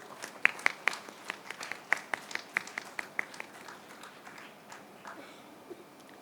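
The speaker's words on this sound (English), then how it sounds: "A big round of applause, please." Sparse, moderately faint clapping from a small audience honoring a doctor at a felicitation ceremony, single claps landing in an uneven patter and thinning out toward the end.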